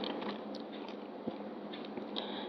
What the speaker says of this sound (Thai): หากินหญ้าแล้วก็กลับมากินแอปเปิลตัว